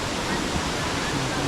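Elephant Falls waterfall in Shillong, Meghalaya, a dense continuous roar of falling water filling the whole short stretch at close range.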